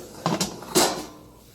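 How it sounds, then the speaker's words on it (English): The door of an Instant Pot Vortex air fryer is shut with a short clunk after a light preceding rattle, close and fairly quiet, with no talking. "And close the door."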